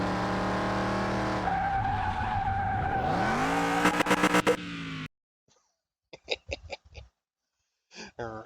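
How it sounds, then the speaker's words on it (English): A very loud V8 race car engine with no exhaust in Car Mechanic Simulator 2021, held at high revs, then rising sharply before a hard cut to silence, followed by a few short bursts of noise and a voice. "Just fucking maxing out the revs on that V8."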